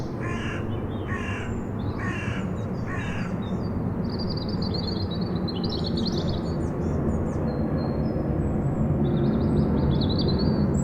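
Crows caw several times in quick succession early on at dawn, followed by scattered birdsong and chirps over a steady low rumble of a plane passing overhead.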